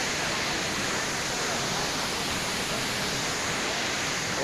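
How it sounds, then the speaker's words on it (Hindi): The Kundo Champawati waterfall in Nagaon roars as a steady, dense rush of falling water, loud and unbroken close by. "वाटरफॉल मेरे पीछे वाटरफॉल देखिए"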